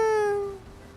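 Pet cat Herbie lets out a single short, close whining meow that trails off quickly into quiet.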